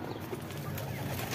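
Pigeons in a cage cooing and scuffling, with soft, low murmuring calls close by and a little rustle in the background, brief and steady.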